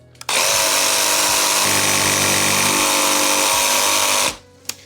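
A jigsaw cutting through PVC column material for recessed exterior columns, a loud, steady high-pitched buzzing whine that runs nearly four seconds after a brief start, then cuts off, with a few faint knocks from the material.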